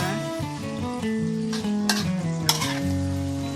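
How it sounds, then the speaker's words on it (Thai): Spring onions and fresh chili being stir-fried in a pan on a gas stove, with loud continuous sizzling and scraping stirs throughout and a few sharper spatula hits near the end, no voices. "ผัดผักหอมนะคะ"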